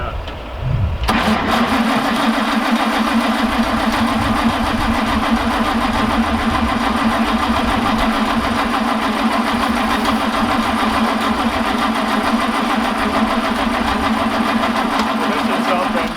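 A carbureted engine cranks steadily as it tries to start, with a continuous, even starter churn that runs loud for about fifteen seconds after a brief quiet moment and never catches.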